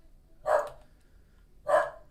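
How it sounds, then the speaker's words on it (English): A dog gives two gruff, grumbly barks about a second apart, each short and fairly close, with quiet room noise between and no talking. "It's the grumbly bark time."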